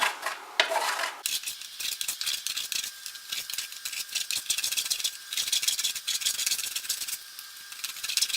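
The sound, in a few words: grating Bourneville dark chocolate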